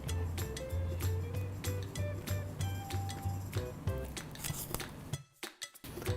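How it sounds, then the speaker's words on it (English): Spoon stirring a fruit dip with cinnamon in a bowl: quick, close clinks and scraping against the bowl in a steady rhythm, fading into a few soft knocks at the end. "Just give this a quick stir."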